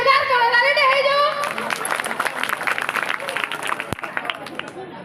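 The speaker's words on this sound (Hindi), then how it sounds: "ताको लागि जोरदार करताली दे" A school audience at an annual function claps loudly, a dense patter of many hands that starts after a voice and fades slightly over a few seconds, with some crowd chatter underneath.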